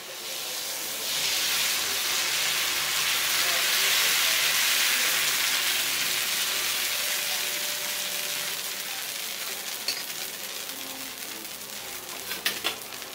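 Fermented dosa batter spread on a hot pan sizzles and hisses loudly and steadily, the sizzle gradually easing, with a few light clinks of a utensil toward the end.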